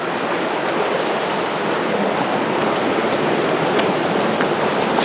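River water rushes steadily along a backcountry hiking route, a broad close roar of flowing current with no talking.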